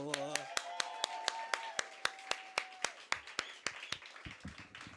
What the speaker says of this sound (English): Please give it up for Cesar.